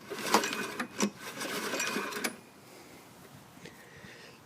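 A starter cord is yanked on a non-running Recycler lawn mower with no gas, its engine turning over with compression: a couple of quick rattling, ratcheting pulls over about two seconds, then near silence.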